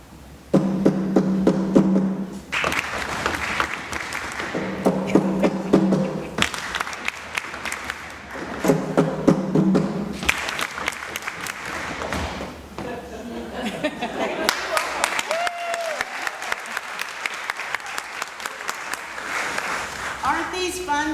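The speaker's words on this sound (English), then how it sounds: "So if you want to do it with clapping your hands, you clap your hands." An audience claps hands, stomps feet and pats legs along to a drum beat, steady rhythmic percussive bursts in repeated sections, with voices chanting and talking between them.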